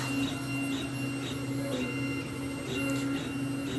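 A VzBoT 3D printer with an experimental hotend runs continuously, its stepper motors whining and buzzing with shifting pitches over a steady mechanical hum, close and without talk.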